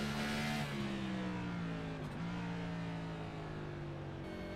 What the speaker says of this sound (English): Listening to these guys downshift, trying to keep their car going as best as they can.